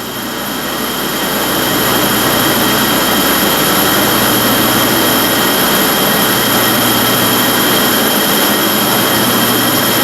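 Woodworking molding machine running in reverse rotation at 4,000 RPM with a power feeder engaged, a loud steady high-pitched roar and whine that builds briefly and then holds constant.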